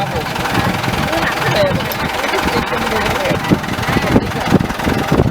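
A tractor fitted with a Kangaroo NKS cutaway plow runs at a steady, close, rumbling idle throughout. People talk over the engine.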